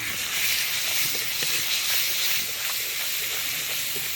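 Ginger and green chili paste with asafoetida sputters in hot oil in a pan for pea kachori, a continuous bright hiss with faint crackles, close and fairly loud, without speech.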